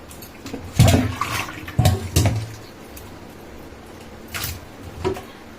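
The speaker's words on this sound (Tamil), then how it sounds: "இப்போ நம்ம கழுவுறோம் இந்த இந்த மாதிரி போட்டு நல்லா ரெண்டு கையிலையும் இப்படி கசக்கி முதல்ல கழுவிடணும்" Goat intestines are scrubbed and squeezed by hand in water, giving several close sloshing splashes in irregular bursts between quieter moments of dripping and swishing.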